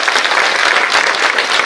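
A crowd claps together at an outdoor political campaign rally in Maharashtra, a dense, loud burst of applause that fills the whole short stretch.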